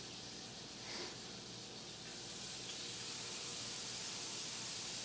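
Slices of bologna laid onto melted butter on a griddle, hissing and sizzling in a steady, continuous crackle that grows slightly louder, close and alone.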